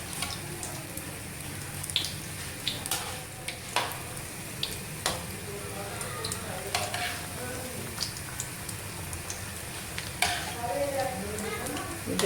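Potato egg rolls fry in hot oil with a steady sizzle, punctuated by occasional clinks and stirring scrapes as they are turned, while someone talks over the cooking.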